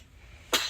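A single short, sharp sneeze bursts out near the end over a quiet background, on a farm during a corn harvest.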